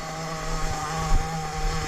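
A new Hobao Hyper VS2 nitro RC buggy engine idles during break-in, a steady buzzing drone close by with slight wavering and small bumps in pitch, running alone without talk.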